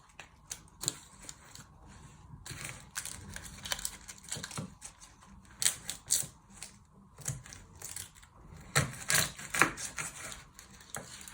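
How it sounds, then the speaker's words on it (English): A knife chops through an onion on a cutting board, a run of uneven crisp taps and crunches, close and fairly quiet, with brief gaps between cuts. "Chop it in half. Then chop off the other end."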